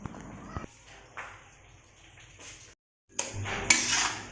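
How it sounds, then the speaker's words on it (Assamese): Grated coconut mixed with sugar goes into a hot kerahi, with metal clatter, scraping and clinking of a pot and spoon, a brief silent gap, then a louder burst of rattling and a sharp ping. "এতিয়া কেৰাহীটো গৰম হোৱাৰ পিছত নাৰিকলখিনি ইয়াতে দি দিছোঁ।"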